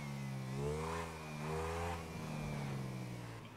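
A Honda CG 125 motorcycle engine in the video game GTA 5 revs up and down in a steady, buzzing drone, close and fairly loud, with no talking over it.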